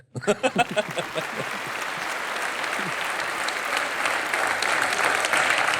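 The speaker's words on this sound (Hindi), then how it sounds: "ये मार पिटाई पे जरूर ताली मारती है।" A studio audience breaks into applause, starting with a few distinct claps that quickly swell into a dense, steady round of clapping that carries on to the end.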